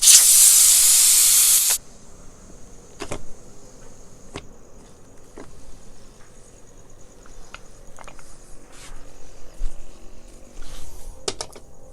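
A pressure cooker whistle releases a loud burst of steam that hisses for under two seconds, then cuts off, leaving a quiet kitchen with faint clicks and clatter.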